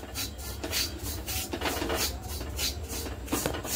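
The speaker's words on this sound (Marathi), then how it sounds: "असं मस्त याला सतत हलवत राहायचंय." Sabudana flour is stirred and scraped in a pan while roasting, giving a close, continuous gritty rasp with rhythmic strokes.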